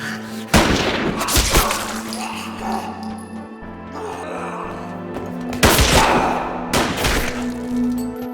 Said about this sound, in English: the daughter ends up shooting her father